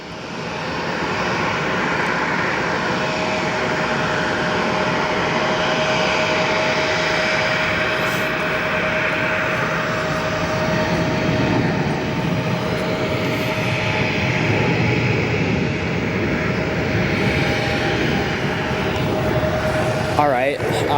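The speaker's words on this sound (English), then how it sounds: "we're gonna head over to this next departure here, up on the north side of the airport," Swiss airliner jet departing from the north side of O'Hare airport, a loud continuous roar with a steady whine that holds throughout, heard at a distance.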